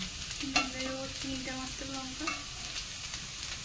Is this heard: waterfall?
no